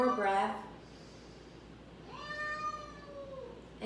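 A pet cat meows at a door as it is let outside during an indoor yoga session, a clear drawn-out meow alone, with a shorter earlier cry partly under a woman's speech.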